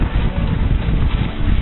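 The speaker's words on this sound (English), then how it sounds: "Right now the wind's down to about 11." Wind of about 11 knots rushes past a sailboat on Lake Michigan, a steady, loud roar buffeting the microphone with no pauses.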